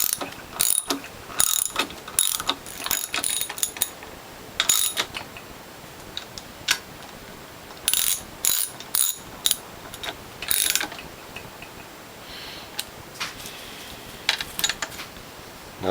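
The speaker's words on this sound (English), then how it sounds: "Let's tighten down the other bolts for the reservoir." A ratchet wrench cranks the reservoir bolts on the base plate of a Norwalk juicer, loud close bursts of rapid clicking repeating in short runs with brief pauses between.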